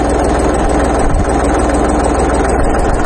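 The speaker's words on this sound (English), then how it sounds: "the engine's running" A tractor engine runs at a steady idle, a loud, continuous low rumble with an even mechanical drone and no change in pace.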